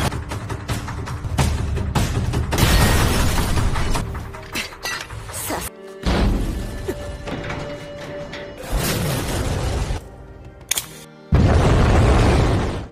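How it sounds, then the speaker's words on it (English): Loud anime explosion effects, deep booms mixed with shattering and clinking debris, hit in repeated bursts separated by brief near-silent gaps, with heavy rumbling sections. "Akame survived, thanks to Leon holding off the explosion using a shield."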